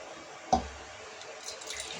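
Tap water runs briefly into a container to mix with spices in a home kitchen, opening with a short splash and then a soft, faint trickle and drips.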